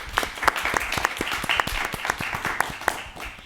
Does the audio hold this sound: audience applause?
yes